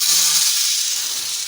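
Maize kernels frying in a pot for a Ghanaian roasted cereal porridge, giving a steady, close sizzling hiss that runs unbroken throughout.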